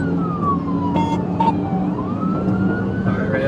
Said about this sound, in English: When the officer activated lights and siren